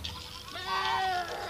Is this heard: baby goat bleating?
yes